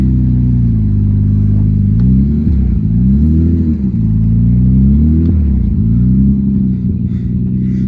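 A BMW 335i with a manual swap reverses up a steep driveway. Its engine gives a loud, close, deep rumbling idle whose pitch rises and falls as the revs are worked, with no talk.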